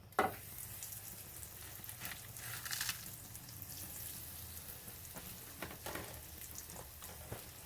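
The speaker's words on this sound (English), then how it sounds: "my pan is hot, and I'm going to cook each chop 2 minutes on each side" Pretzel-crusted pork chops sizzle and fry in a hot pan, a steady crackling hiss with small pops running throughout, close and moderately loud, with a brief spoken word near the start.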